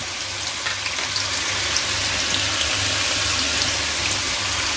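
Onion pakoda frying in hot oil, a steady dense crackling sizzle that holds evenly throughout, close and fairly loud with no speech.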